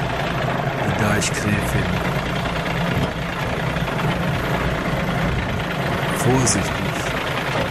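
A 1976 Jonker Paans motorboat pulling away with its engine running, a steady low mid-pitched drone under close voices that talk over it, plus a few knocks and clatters.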